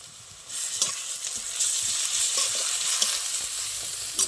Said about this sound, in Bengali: আর রসুনটাও ভালো ভাজা হয়ে গেছে পেঁয়াজের সাথে